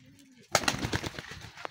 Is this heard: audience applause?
no